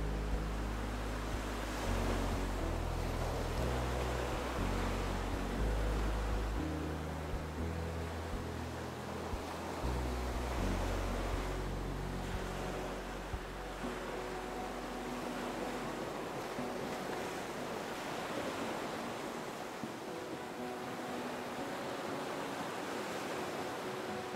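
Constant roar of surf and wind on an open Outer Banks beach, loud and noisy with low rumbling gusts early that ease slightly later; no talking.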